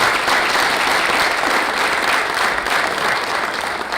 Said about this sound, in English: Let's give our 7 panelists a round of applause.